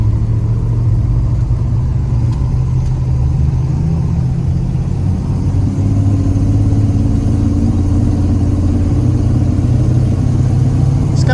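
A 1985 Chevrolet Silverado truck, recently lifted, accelerates on a test drive with a loud, steady engine drone from inside the cab, pitch rising gradually as it picks up speed.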